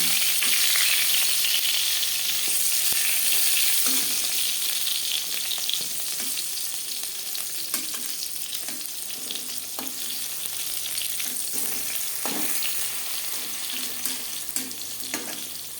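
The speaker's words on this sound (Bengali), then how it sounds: "এভাবে ঢাকা দিয়ে বেগুন ভাজলে বেগুন সুসিদ্ধ হবে তেলের পরিমাণটাও কম লাগবে" Eggplant slices for begun bhaja fry in oil under a covered pan, a steady close sizzle with occasional soft clicks and spatters, gradually easing slightly, with no voices.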